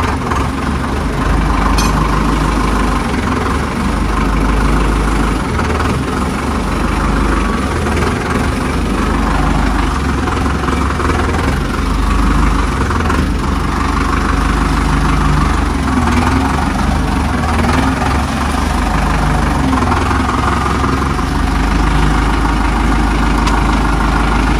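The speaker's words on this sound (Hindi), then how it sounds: "और ये मोटर चल रही है अपने दूसरे वाले गड़ा में से" A water pump motor running beside a rice field, a constant low mechanical drone that holds steady and unbroken for the whole stretch, with no change in pitch.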